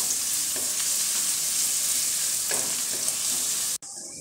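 Chopped garlic and ginger fry in a pan for a Bengali dal fry, a bright steady hiss of hot oil with faint scraping stirs, cut off abruptly near the end.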